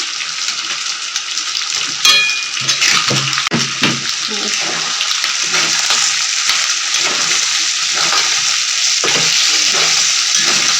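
Nepali chicken frying in a hot pan with red chili powder, a loud, close, continuous sizzle with stirring scrapes and clinks, and a few louder knocks early on.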